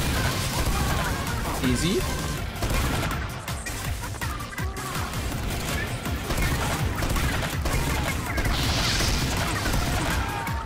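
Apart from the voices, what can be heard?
gunshots fired in Team Fortress 2 video game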